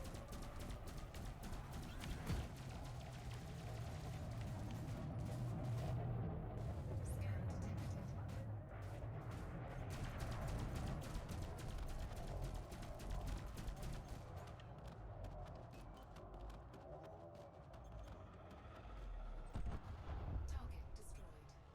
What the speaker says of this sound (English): Defensive systems are firing.